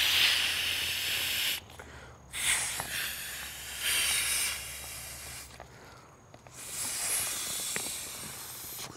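Breath is blown in long, hissing puffs into the bite valve of a LuminAID inflatable solar lantern. Each puff is close and loud, and there are short quiet gaps between them.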